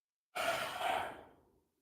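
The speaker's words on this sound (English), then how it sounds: "Big, deep breaths." A single big, deep exhalation during White Crane qigong practice, a loud breathy rush that swells quickly and fades out slowly over about a second and a half, close up with no talk.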